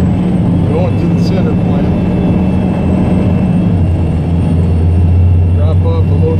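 An end dump truck drives along with a steady, loud engine drone and low rumble heard from inside the cab, while someone talks over it.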